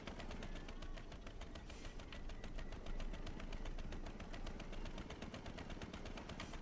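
A steady, rapid mechanical chugging of a boat engine runs continuously while steering a boat in the video game Indiana Jones and the Great Circle, even and unbroken throughout.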